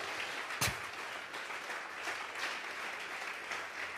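A church congregation at a general prayer vigil claps together as an offering to God, producing steady, even applause that stays soft and slightly distant throughout, with no voices on top.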